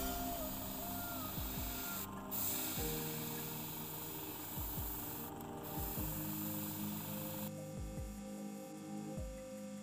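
An airbrush sprays fluorescent pink and pearl white paint at low pressure, around 15 psi, onto the belly of a balsa bass crankbait lure: a steady airy hiss over a low mechanical hum that cuts off near the end.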